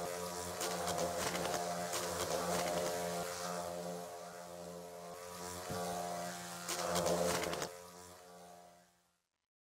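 Wasps swarm around a giant wasp nest in a video game set in a Finnish summer, giving a loud, dense, steady droning buzz that swells and fades slightly before cutting off abruptly at the end.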